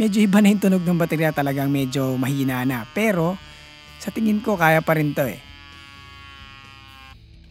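A portable electric bike tire pump running on a weakening battery buzzes steadily under a person talking, then keeps droning alone as the talk stops.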